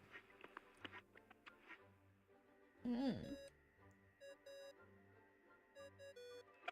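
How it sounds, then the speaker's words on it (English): A game communication device rings in Genshin Impact with a repeating electronic ringtone pattern of short tonal bursts, set among soft game sounds with a brief louder noise midway. "What's that ringing?"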